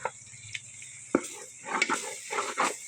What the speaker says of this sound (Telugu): ఈ మసాలాలో ఈ మటన్ ముక్కలు వేసేయాలి ఫ్రెండ్స్